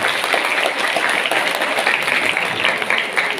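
Applause from an audience at an education event in Mojokerto, East Java, sounds as a continuous, fairly loud patter of many hands clapping, even and unbroken.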